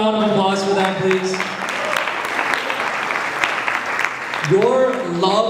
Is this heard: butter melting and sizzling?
no